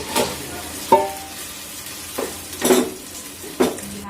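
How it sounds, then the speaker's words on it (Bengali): Pasta with a little water hits a hot pan, giving a brief sizzle followed by several short clinks and scrapes of stirring in the pan, close and intermittent. "বাটিতে রাখা একটু পানি সহ পাস্তা এর মধ্যে ঢেলে দিব"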